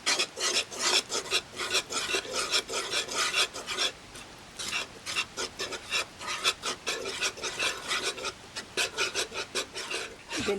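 Egg yolks for a yema cake are beaten by hand in a bowl, a rapid scraping whisk-like rhythm of short strokes repeating steadily and close up, with no talking.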